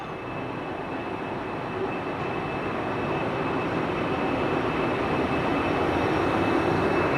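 Mysuru Talguppa Express on a night run from Bengaluru, heard from inside a 3rd AC coach: a steady, loud rumble of wheels on rail with constant hiss and a faint high whine, rising slightly, no voices.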